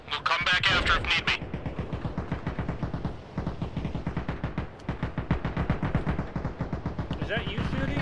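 Rapid gunfire rattles on and on during a Humvee convoy ambush. A fast, loud string of shots starts with a sharp burst and continues almost without a break, and voices can be heard through it.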